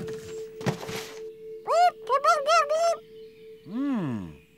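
A cartoon bird squawks and calls in a children's animated show set on a farm road: several short rising squawks in a quick burst, then a longer swooping call, over a steady background hum and a thump.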